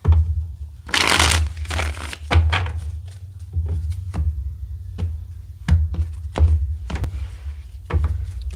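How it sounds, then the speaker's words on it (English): Tarot cards being shuffled in a series of crisp riffling bursts and soft taps, close by, with short pauses between each pass. "Let's get one more good shuffle here."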